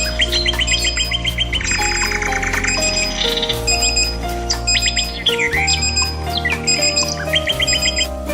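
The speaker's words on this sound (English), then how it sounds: "As an alarm, iMist can be set to wake you up by aroma mist, natural sounds, or alarm buzzer." An iMist aroma diffuser's alarm playing a natural-sounds track of birdsong: bright repeated chirps and trills over a steady tonal backdrop, loud and continuous with no talking.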